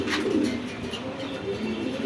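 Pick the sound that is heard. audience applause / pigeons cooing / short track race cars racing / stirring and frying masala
pigeons cooing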